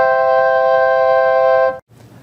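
A church organ sounds one sustained chord with a piston registration recalled from memory level 2, steady and full for nearly two seconds before it cuts off abruptly, leaving faint room noise.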